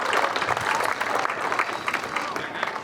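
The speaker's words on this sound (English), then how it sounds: "let's get a round of applause for those 3 amazing individuals" Hall of fame ceremony audience giving a round of applause for three finalists, a loud dense patter of clapping that swells and dips slightly but keeps going without pause.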